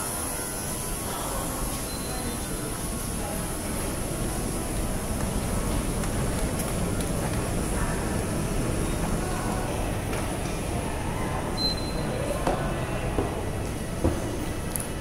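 Chinese metro train rumbling steadily at a station, a continuous low roar with faint high whine and occasional clanks, moderately loud throughout with no speech.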